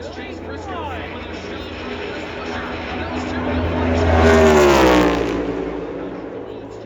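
A pack of NASCAR stock cars roars past at the Yellawood 500, engines swelling from a steady drone to a loud close pass and then fading with a falling pitch, while a commentator talks over the noise.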